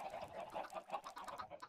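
Minecraft chickens clucking in the video game, a busy overlapping series of short bright clucks repeating steadily throughout, fairly close and clear with no talk over them.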